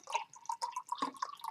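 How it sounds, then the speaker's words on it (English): Liquid is poured from an opened bottle, making a close series of gurgling, dripping glugs in an uneven rhythm. "While I'm opening this bottle and pouring it in"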